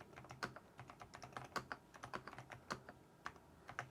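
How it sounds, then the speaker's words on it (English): Fingers type on a Keychron V6 Max mechanical keyboard, a quick irregular run of soft, muted key clacks heard close and alone. "when I first started looking at these keyboards, I thought they were going to be more clacky."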